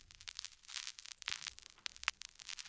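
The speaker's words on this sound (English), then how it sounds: "Yeah, some vinyl crackle," A vinyl crackle noise sample plays alone, scattered dry pops and ticks over a faint, quiet bed of surface noise, crisp and irregular.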